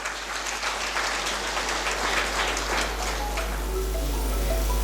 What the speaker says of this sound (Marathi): पुन्हा एकदा टाळ्या वाजवा त्यांच्याकरता